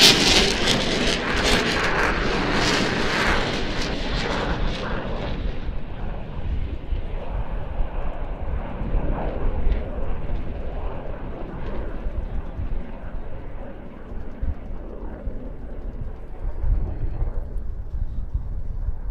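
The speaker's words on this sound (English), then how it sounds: "this is a jet we will continue to enjoy at air shows for years to come" An F-16 fighter jet flies at an air show practice day in Leszno, a loud broadband roar that swells in the first few seconds and then settles into a steady, more distant rumble lasting the whole stretch.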